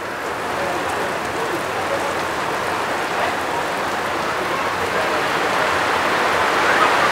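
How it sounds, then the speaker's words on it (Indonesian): Heavy rain falling steadily and loudly outdoors near a site where an excavator is working, a dense continuous hiss that builds slightly toward the end. "Hujan turun lagi, bertambah deras dengan intensitas yang masih dikatakan belum terlalu besar"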